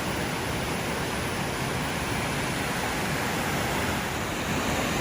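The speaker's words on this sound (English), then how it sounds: "Nice little two-tiered cascade," A small two-tiered cascade waterfall on the River Doe along the Ingleton trail in the Yorkshire Dales, a continuous broadband rush of falling water, steady and close, with no voices.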